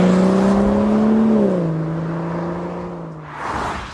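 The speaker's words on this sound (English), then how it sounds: "that really nice, smooth, 6-cylinder BMW noise that, well, I've certainly come to love over the years" A 2017 BMW M240i six-cylinder runs with a loud, close, smooth exhaust drone that holds a steady pitch, sags slightly midway and then settles lower before fading out. No one speaks.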